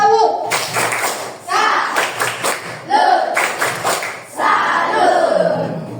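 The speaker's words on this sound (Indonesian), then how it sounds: "coba tepuk salut" Class of pupils performing the 'tepuk salut' clapping chant in an Indonesian school, with bursts of rhythmic group claps alternating with shouted chanted words in several loud phrases.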